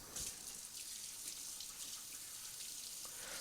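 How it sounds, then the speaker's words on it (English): A tap runs in a steady, soft hiss while hands are rinsed at a kitchen sink, faint and continuous with a few small splashes. "I'm going to rinse my hands real quick"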